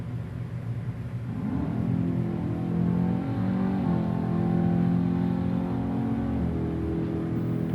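A 1972 Chevelle Concours wagon, the MP Motorsports car, makes a drag racing run, its engine rising into a loud, sustained roar with shifting pitch for several seconds and no talk over it.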